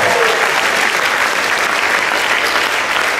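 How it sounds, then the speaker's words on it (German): Warm, continuous audience applause fills a tent venue near the Kanzleramt during a musical comedy show, steady and full from start to finish with no pauses. "das ist dein Applaus"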